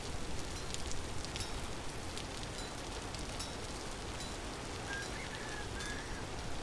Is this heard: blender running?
no